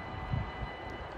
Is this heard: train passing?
yes